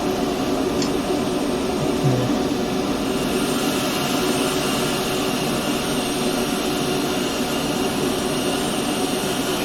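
A FedEx jet airliner's engines roar at a steady, loud, even pitch in a flight simulator game, flying toward Sydney Harbour, with no talk over it.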